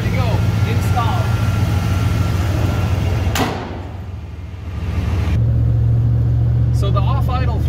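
A Ford 460 V8 in an OBS Ford truck idles with a steady low rumble, briefly muffled as a door shuts, then returning louder, while people talk over it.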